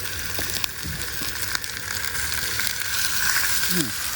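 Peaches searing cut side down in a very hot cast iron pan, a steady bright sizzle with scattered crackles throughout, moderately loud and close.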